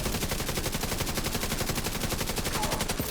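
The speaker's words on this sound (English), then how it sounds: "I point my turret at these people." Automated turret in The Division 2 firing a continuous rapid stream of shots, loud and close, an evenly spaced machine-gun rattle that runs unbroken for about three seconds with no talking.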